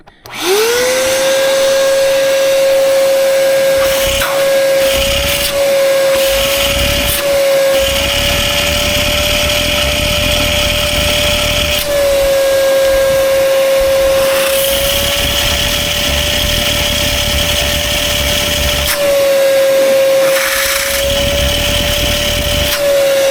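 A shop vac roars steadily beside a Mack semi truck, its high whine holding constant with slight wavering pitch for over twenty seconds, loud and close, with intermittent clanks and rustling in the background.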